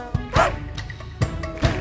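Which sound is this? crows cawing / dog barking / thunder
dog barking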